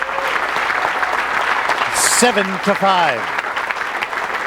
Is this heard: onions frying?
no